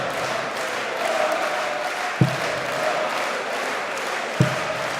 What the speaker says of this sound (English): The crowd already on their feet, finding their voices and applauding another ton 80